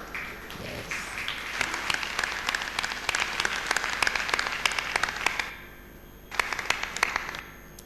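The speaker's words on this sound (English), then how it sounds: "Can we give a thunderous round of applause?" An audience at a meditation gathering breaks into strong, sustained applause as a guest arrives. The dense clapping runs for several seconds, drops off briefly, then resumes in a shorter burst.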